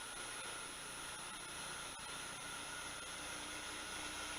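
A 3-phase motor on a vertical milling spindle runs from a single-phase variable frequency drive, producing a faint, steady whirring hum with a thin high-pitched tone that holds constant throughout.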